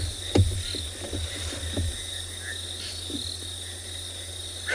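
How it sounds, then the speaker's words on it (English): Crickets chirping as a steady background trill at sunrise on a safari, with a few brief low knocks and faint bird calls mixed in. "Attract a really nice kind of background noise from the crickets."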